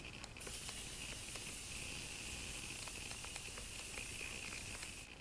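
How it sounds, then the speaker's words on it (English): Morphe Continuous Setting Mist spraying onto a face as a steady, close hiss that runs for about five seconds without pause. "I'm just going to set my face with the Morphe Continuous Setting Mist"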